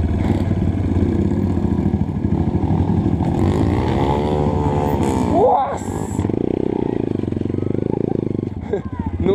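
A Yamaha TT-R 230 dirt bike stuck in mud revs hard and slips its clutch, its engine whine rising and falling. Someone talks loudly over the engine throughout.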